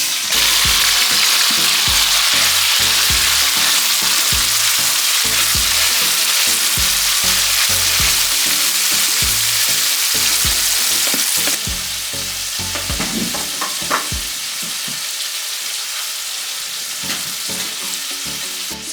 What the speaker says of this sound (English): So the oil is now hot, so I'll put the pork in the pot.